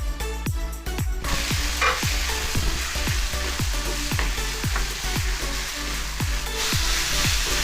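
Marinated chicken sizzling and frying in a pan, a dense steady hiss broken by regular scraping knocks as the pieces are stirred, close and loud with no talk.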